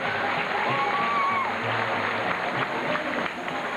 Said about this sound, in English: How about a nice round of applause for both dolphins?